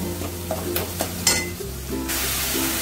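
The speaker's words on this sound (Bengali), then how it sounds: "এবার যতক্ষণ না তেলটা রিলিজ করছে আমি কষিয়ে যাব" Spice paste frying in oil in a pan for a vegetarian soybean dish, a steady loud sizzle with occasional scraping stirs of a spoon against the pan.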